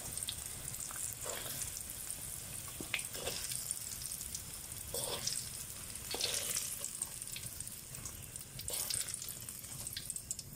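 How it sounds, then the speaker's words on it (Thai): Pieces of battered pumpkin deep-fry in a small amount of oil. The sizzle is faint and continuous, with occasional brief scraping or clattering bursts and no talk. "ฟักทองชุบแป้งทอดจะได้แล้วเหลืองแล้วนะคะ"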